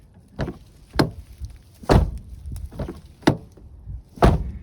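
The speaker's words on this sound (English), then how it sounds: "Listen to that door." An old car door at an auto wreckers, left sitting for a decade or more, is worked open and shut several times, giving a series of loud, close thunks and creaks spaced about a second apart with no talking.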